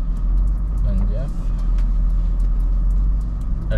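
Land Rover Defender 110 engine labouring up a dry dirt slope, a steady loud low rumble held throughout, with a brief voice faintly underneath.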